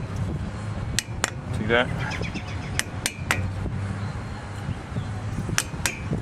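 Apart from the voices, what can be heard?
tapping a brake part into place with a hammer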